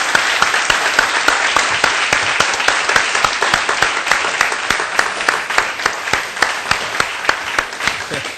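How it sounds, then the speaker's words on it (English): Studio audience on the Ghanaian game show Who Wants to Be Rich applauds the first contestant in the hot seat, loud dense clapping with sharp rhythmic accents, sustained from start to finish. "Round of applause for Foster."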